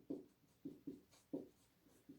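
Chalk or pen strokes writing by hand during a physics lesson, a handful of short scratchy strokes in an irregular rhythm, close and quiet, with no speech.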